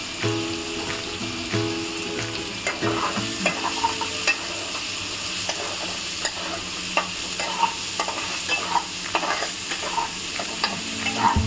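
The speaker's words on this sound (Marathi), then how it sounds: "चांगला कांदा भाजून घेऊया आपण." Onions fry in a pan with a continuous sizzle while a spatula stirs and scrapes in repeated strokes, close and fairly loud with no voices.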